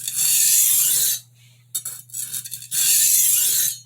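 An 8-inch chef's kitchen knife drawn heel-forward across a sharpening stone makes two long, even rasping strokes separated by a quieter pause with brief scraping touches, loud and close.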